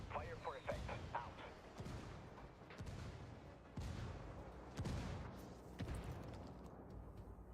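Mortar fire called in by rebels in the Ghost Recon video game, heavy booming impacts repeating every second or so at mid distance over a dense rumbling battle bed, with voices talking throughout.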